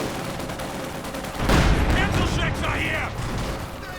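A sudden explosive burst of Panzerschreck rocket fire in the video game Company of Heroes 2, with a rumbling tail and crackling battle noise continuing under a commentator's voice.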